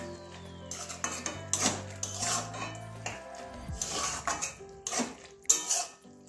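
Coriander leaves stirred into a cauliflower-stem curry with potato and aubergine in a pan, with a spoon clattering and scraping against the metal in uneven strokes, close and fairly quiet, no talking.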